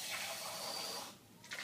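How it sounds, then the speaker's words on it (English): Water poured into a solid salt sample during a chemistry demonstration on electrolytes, a steady splashing hiss lasting about a second before cutting off, fairly quiet and close. "So if I was to add just some water to this system,"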